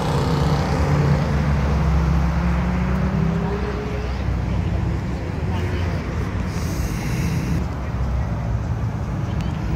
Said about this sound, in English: Look how fast that Porsche is.